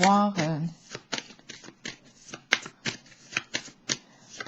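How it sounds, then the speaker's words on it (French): Tarot cards are shuffled and drawn by hand, a quick riffle at the start followed by a series of close, crisp card snaps and slides at an uneven pace. "puis je vais piger les cartes de mon tarot psychique"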